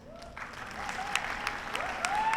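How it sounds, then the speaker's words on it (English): Applause from an awards-ceremony audience, a steady patter of many hands clapping at moderate distance, building slightly toward the end with a few brighter tones cutting through. "Clap for this guy."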